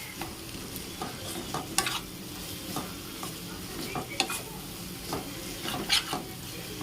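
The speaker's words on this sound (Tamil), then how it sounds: "இந்த மசாலாவோட பச்சை ஸ்மெல் போகிற அளவுக்கு நம்ம நல்லா இதை வதக்கிக்கிறேன்" Spice masala sautéing in a pan for mutton gravy, with a continuous soft sizzle and repeated spoon scrapes and taps stirring the mix, close but fairly quiet, no voices.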